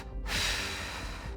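A single long, forceful open glottis labor breath is pushed out through pursed lips, a close, loud breathy rush that starts abruptly and fades out.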